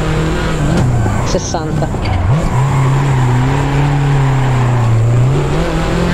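A rally car on a special stage of the Rallye Sierra Morena at Obejo, heard from onboard, its engine droning loud and steady with pitch sweeping up and down through shifts, while a co-driver reads pace notes over it.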